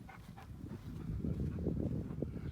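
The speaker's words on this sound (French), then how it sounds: "le chien doit pouvoir passer dessous." A small dog panting and whimpering close by, soft uneven breaths and short whines at low volume, alone.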